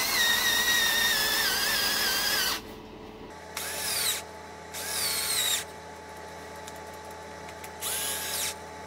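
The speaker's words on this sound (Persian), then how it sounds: "این دریل های شارژی بیکیفیت واقعا اعصاب خرد کنن." A low-quality cordless drill whines at high pitch for a couple of seconds, then fires in three shorter separate bursts with quiet gaps between them.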